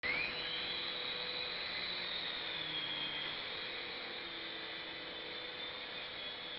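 A Silverlit Sky Dragon toy helicopter's small electric motor whirs steadily at high pitch, close by and alone, its tone rising briefly at spin-up then holding a constant buzzing drone throughout.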